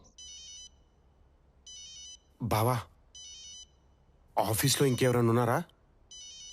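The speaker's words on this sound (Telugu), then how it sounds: "ఫోన్ ఏదో రింగ్ అవుతుంది బావా" A mobile phone ringtone repeats in short, evenly spaced electronic bursts, fairly close, while someone speaks in the gaps between rings.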